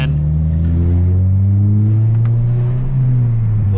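A manual Mazda 3 driving on a city street, its engine droning loud and steady close by, the pitch climbing slightly as it pulls through a gear, with a small dip and recovery near the end.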